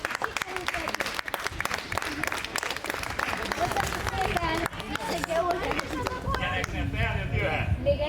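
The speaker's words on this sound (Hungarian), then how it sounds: "Na, kész, na tapsoljuk meg!" An outdoor crowd at a Hungarian end-of-carnival folk custom of spinning fire torches claps in sustained applause, mixed with loud chatter and voices throughout.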